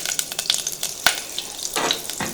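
Margarine melts and sizzles in hot olive oil in a stainless steel pan, a close crackling fry with sharp pops and a brief scrape partway through, no talking.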